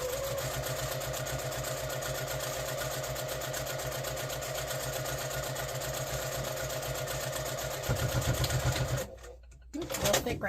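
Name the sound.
sewing machine stitching a seam on a heat pack cover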